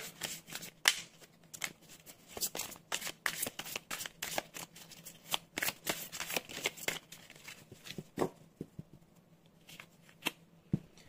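Oracle cards shuffled by hand for a tarot-style reading, quick papery riffles and flicks in irregular bursts, close and soft.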